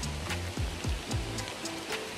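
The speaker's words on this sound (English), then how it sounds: "it starts to rain." Rain begins to patter on a rainforest hiking trail among hanging bridges in Costa Rica, a soft steady hiss with scattered drops, faint and close.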